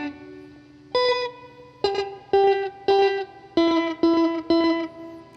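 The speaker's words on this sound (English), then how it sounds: "It sounds like a reverb" Electric guitar notes run through a Boss DD-200 delay pedal, eight plucked hits in a steady pattern, each ringing and trailing off in a smeared, reverb-like wash of repeats.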